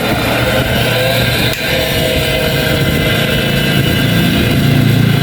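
An electric motor from a clothes washing machine with a clutch problem runs with a loud, steady hum and whir, close and continuous with a brief dip partway through.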